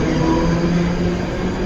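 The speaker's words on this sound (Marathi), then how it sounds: "11:30 अंबरनाथ जाने वाली धीमी लोकल थोड़ी ही समय में प्लेटफॉर्म क्रमांक 4" A Mumbai slow local train bound for Ambernath pulls in at platform 4 of a busy station, a loud, even rumble of carriages and wheels running steadily without pause.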